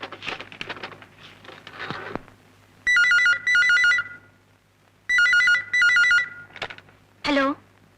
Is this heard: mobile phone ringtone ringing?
yes